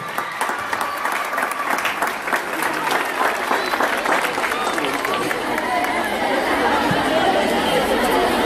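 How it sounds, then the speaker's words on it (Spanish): Girls at a school assembly clap loudly to welcome the deputy director at a Cajamarca school visit, a sustained crowd applause mixed with chatter and shuffling voices throughout. "La recibimos con un fuerte aplauso"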